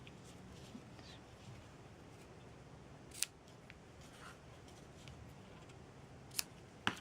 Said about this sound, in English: And then just trim off our ends